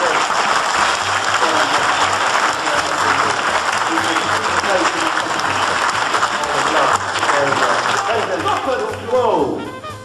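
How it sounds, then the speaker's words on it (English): Thunderous applause from a live comedy and magic show audience, loud and dense throughout, with a few voices and cheers breaking through near the end. "You've got a thunderous round of applause from the audience"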